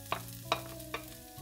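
Garlic cooks in olive oil in a pan, a quiet sizzle under three sharp utensil clicks against the pan spaced evenly apart.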